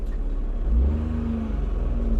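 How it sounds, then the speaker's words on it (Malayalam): A car engine turns over and settles into a steady, close idle hum, with a brief rise in pitch as it catches and no talk over it. "ആ വണ്ടി ഓണാക്കി"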